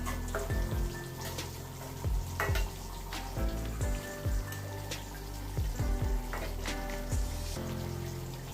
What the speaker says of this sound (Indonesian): Dan untuk di kompor yang sebelahnya emak pakai untuk goreng tempe